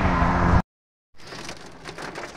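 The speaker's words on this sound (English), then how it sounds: "It is hailing, apparently." Hail falling outdoors at a race weekend: a loud burst, a sudden brief silence, then a steady, fairly close pattering of ice hitting surfaces, with no voices.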